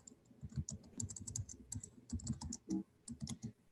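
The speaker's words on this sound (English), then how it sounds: "You always think you're good at typing until people are watching you" Rapid, uneven typing on a computer keyboard during a live web theme-porting session, with dense clusters of close, crisp key clicks and brief pauses, no voices.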